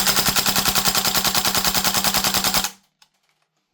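A WellPro AK12 gas blowback airsoft rifle fires full auto in one continuous rapid burst of sharp, evenly spaced cracks, close and loud, which stops abruptly as the magazine empties, followed by a single faint click.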